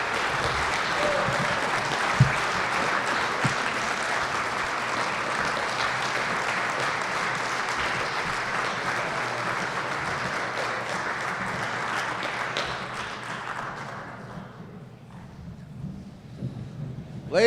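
Long, even applause from a dinner crowd at a county Democratic Party annual dinner, honoring the Lieutenant Governor, a thick wash of clapping that holds steady for many seconds before tapering off near the end.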